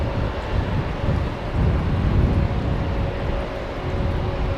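A jet airliner in old Saudi Arabian livery at Heathrow rumbles with a steady low roar and wind buffeting, loud and continuous.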